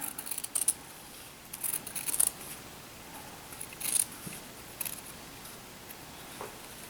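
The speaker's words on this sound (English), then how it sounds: "Now, with this unit, we just cut again on the line." Scissors snipping through overlapping quilt fabric pieces along a marked line for flying geese blocks, a few quiet, scattered cuts close by.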